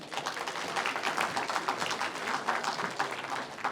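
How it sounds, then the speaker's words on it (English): An audience applauds at the Global Leadership Summit Awards 2024 ceremony, with steady, dense clapping sustained evenly throughout, no voices above it. "Can we all please start with a round of applause?"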